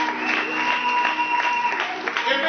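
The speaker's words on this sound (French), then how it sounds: "Acclamons très fort." Congregation applauding in a church during a sermon, steady sustained clapping throughout with a dense crowd texture and some voices mixed in.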